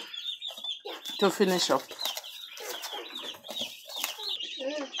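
Chickens cluck and chatter nearby in bursts, and a person speaks briefly in the middle of the noisy flock.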